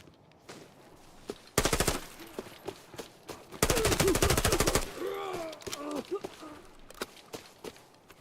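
Two long bursts of rapid automatic gunfire in a video game, loud and close, set between quieter footsteps and a voice speaking.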